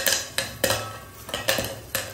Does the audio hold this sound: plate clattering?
yes